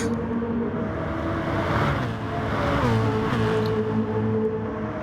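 BMW M3 Cup race cars in a racing video game at Kyoto Driving Park, engines droning near flat out with shifting pitch as several cars run close together, a steady mid-level mechanical whine throughout.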